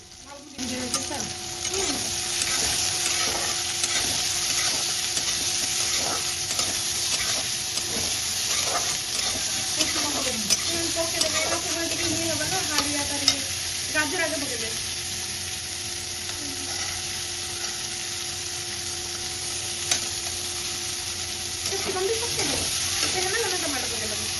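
Onion, capsicum and carrot frying and being stirred in a pan for a macaroni dish, a steady sizzle throughout with scraping stirs and a faint voice in the background.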